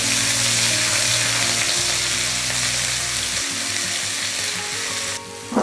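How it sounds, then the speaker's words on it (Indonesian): Ground spice paste for nasi ruwet sizzles loudly as it sautés in hot oil in a wok, a dense continuous frying hiss with faint stirring scrapes and no talking. "Selanjutnya panaskan wajan, kasih sedikit minyak goreng, lalu kita tumis bumbu halusnya."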